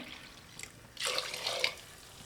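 Soaking water from kodo millet poured into a cooking pot for millet pongal, a brief splashing gush of about a second following a quiet moment.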